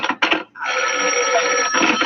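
An old-style telephone bell rings in a radio drama, two short bursts and then a long, loud continuous ring, close up with no talk.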